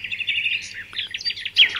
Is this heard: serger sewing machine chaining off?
no